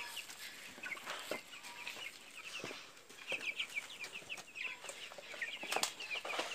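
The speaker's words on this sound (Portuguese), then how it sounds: "As aves não estão nem aguentando andar de tão pesadas que estão." Free-range caipirão chickens, heavy and slow-moving, cluck continuously in a flock, with soft repeated clucks and occasional sharper calls and wing or foot noises, moderately close and fairly quiet.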